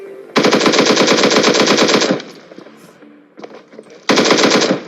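Automatic gunfire from a battle royale video game, a loud rapid burst of shots lasting nearly two seconds, then scattered quieter sounds and a second sustained burst near the end.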